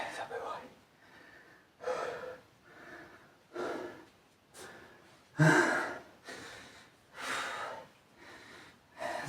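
A person breathes heavily during an exercise workout, with deep gasping breaths coming in a regular rhythm about every second or so, close and fairly loud, some sharper and louder than others.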